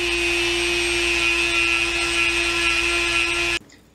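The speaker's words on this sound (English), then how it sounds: "Take my cordless drill, I can chuck this up in there. There's no easier way to clean out a hole." A cordless drill spins steadily to clean out a hole in a part from a 15-inch planer during a shop rebuild, a loud continuous whine that holds for over three seconds, then stops abruptly and leaves near silence.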